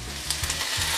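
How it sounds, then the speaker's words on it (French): Sliced onions and cabbage fry in a little oil in a pan, a steady close hiss and crackle of sizzling with a few faint stirring scrapes. "faire revenir les oignons avec un petit peu d'huile dans une poêle"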